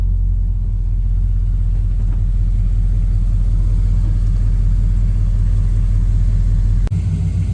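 A 1969 Camaro Super Sport's engine drones steadily from inside the car while driving, a loud, even low rumble with no voices, ending in a brief thump near the close.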